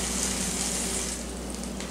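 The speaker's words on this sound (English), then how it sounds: "press this down so we hear it sizzle" Steady, loud sizzling of a patty melt sandwich pressed down on a hot griddle, continuous crackle close up with no voices.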